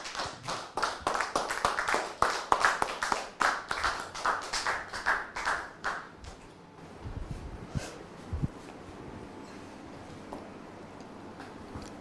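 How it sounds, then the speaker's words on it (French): A studio audience at a French talk show claps to welcome a guest, with loud, quick, distinct hand claps for about six seconds that then stop abruptly. After that only faint room noise and a couple of soft knocks remain. "Public, merci de recevoir notre invité sous vos applaudissements."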